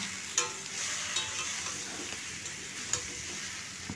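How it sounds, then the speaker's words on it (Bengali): Okra (bhindi) frying in a pan gives a steady close sizzle, with a few sharp clicks from stirring against the pan and no voices. "হাতে মেখে রাখা ভেন্ডিটাকে আমি এখানে দিয়ে দিলাম, দিয়ে এরপর আস্তে আস্তে আমি এটা কষতে থাকবো"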